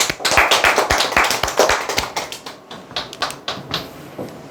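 An audience claps together at a sales training lecture, dense, fast hand claps sustained across the room for several seconds before thinning out into a few scattered claps.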